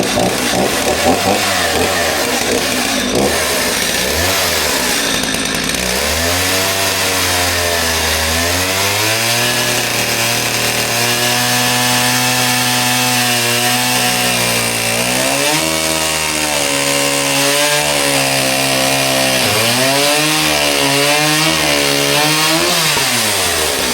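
Chainsaw cutting wood while building a foaling stall, a loud close engine whine that rises and falls in pitch as the blade bites through the timber, with revs surging and easing.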